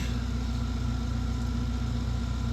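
A Vauxhall/Opel Tigra engine idles while hooked up to an emissions testing machine during catalytic converter replacement, a steady low continuous hum with no variation, fairly loud and alone.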